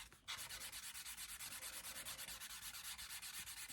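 A blending stump rubs steadily back and forth across drawing paper while an eye is drawn, a close, soft scratchy swishing in quick regular strokes.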